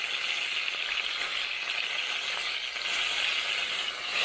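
Chicken frying in a pan at a church, giving a steady, even, hissing sizzle at moderate volume with no talk over it.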